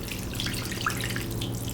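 Tap water runs into a cooking pot being filled for homemade chicken broth, a brief steady splashing rush with bright bubbly flecks and no talking.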